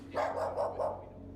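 Dog barking indoors, four quick barks in a short burst at moderate distance over a faint steady hum, with no speech.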